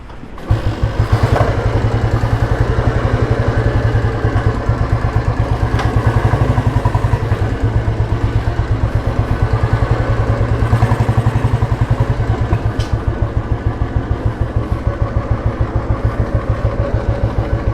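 A Royal Enfield Bullet motorcycle engine, a late-model CI version, runs with a loud, steady rapid thumping beat and a faint rattling knock, close by and without voices.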